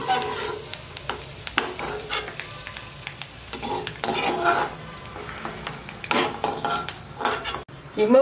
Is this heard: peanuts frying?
yes